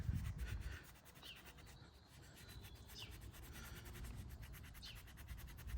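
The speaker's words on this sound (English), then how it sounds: "I've got some Angel Wax medium compound. Got it on a microfiber cloth. I'm just doing it by hand." Medium polishing compound being rubbed by hand with a microfiber cloth on the wheel of a 2018 Skoda Fabia to remove tyre transfer, heard as steady close back-and-forth scrubbing strokes.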